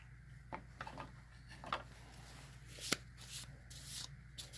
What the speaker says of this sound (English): I'm going to have to shuffle up what's behind here.